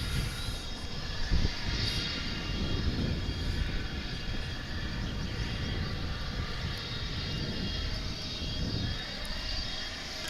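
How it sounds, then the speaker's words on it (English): Aircraft engines rumble steadily at DFW International Airport, a broad, continuous roar with a faint high whine on top, heard from a distance with no talk. "I'm hearing engine noise over there from our pals over at UPS."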